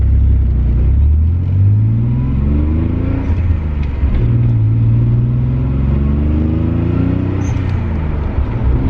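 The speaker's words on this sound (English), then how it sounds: "I love the blow-up valve." A Nissan 300ZX twin-turbo engine rumbles and revs loudly up close, pitch rising through repeated accelerations, with a blow-off valve whoosh sitting over the steady mechanical drone.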